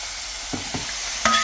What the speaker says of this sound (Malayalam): ഇനി നമുക്കിത് നമ്മുടെ മസാല പെറ്റി വെച്ചേക്കണ ചിക്കൻ അതിലോട്ട് ഇട്ട് കൊടുക്കാം